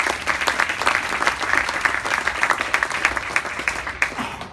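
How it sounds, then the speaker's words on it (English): A business audience at a cloud technology thought-leadership evening gives a round of applause, loud close clapping from a room of people sustained for over four seconds before trailing off. "Please, a round of applause"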